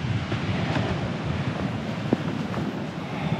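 Ocean surf rolls onto a beach eroded by a recent northeaster, a continuous broadband roar of waves with heavy wind buffeting the microphone, loud and unbroken.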